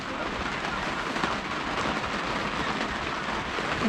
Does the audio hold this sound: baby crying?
no